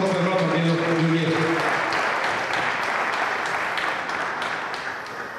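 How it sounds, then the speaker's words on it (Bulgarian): Applause at a Varna sports event honors the European champion Delyan Georgiev, a crowd clapping steadily and slowly fading, with a presenter speaking over the first two seconds. "Още малко аплодисменти за номер едно в този спорт в Европа, Делян Георгиев."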